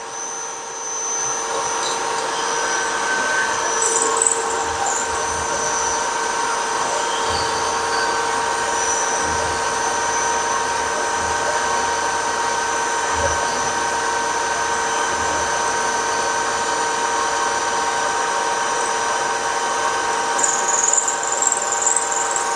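A milling cutter grinds through metal while machining steam ports, giving a steady, close, high whining drone with faint rhythmic thumps underneath that runs unbroken throughout, with no talk.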